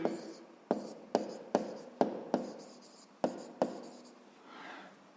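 Pen or pencil writing by hand on paper while working a 5th-grade math exercise: a series of about eight sharp taps and scratches at an irregular pace, close and quiet, with no talking.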